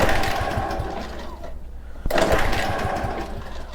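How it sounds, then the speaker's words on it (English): Honda lawn mower engine running with the choke off, a close, steady buzzing drone that cuts out briefly near the middle and then catches again at full strength. "Let's turn it off choke and see if it turns on without choke."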